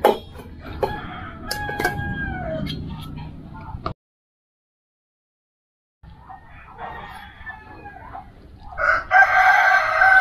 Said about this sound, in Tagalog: Dahil marami kaming alagang manok dito sa likod ng bahay.